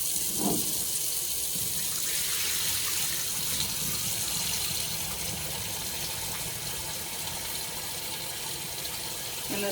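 Hot tap water running steadily into a pot of beans being rinsed, a close, continuous gushing splash with slight shifts in tone, no talking.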